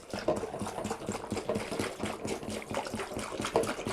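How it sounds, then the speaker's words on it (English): Beer wort for a pale ale with Amarillo and Simcoe hops being poured to aerate it, a continuous close splashing and trickling of liquid with a faint rhythmic mechanical churn beneath. "So while doing this, I'm actually aerating the brew."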